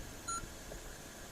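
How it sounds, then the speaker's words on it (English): A single short electronic beep from a Power Acoustik CP-650 car stereo head unit near the start, then quiet low hum. "I'm going to turn the beep off."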